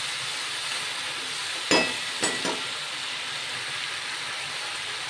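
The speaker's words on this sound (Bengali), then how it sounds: "নেড়ে চেড়ে মিশিয়ে নিচ্ছি।" Vegetables sizzle steadily in a hot pan while a utensil scrapes and stirs twice, the clatter brief against a constant loud frying hiss.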